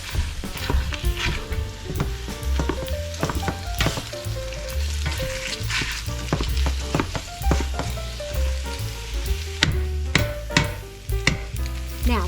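Chopped sausage sizzles and fries steadily in a soup pot, loud and close, with frequent clinks and scrapes of a utensil stirring against the pot.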